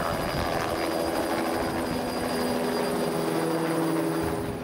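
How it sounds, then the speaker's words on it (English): An agricultural helicopter in flight gives a steady, continuous rotor and engine drone with a constant throbbing texture, heard close and evenly throughout, with no talking. "Then we met up with Joel, who was piloting the helicopter."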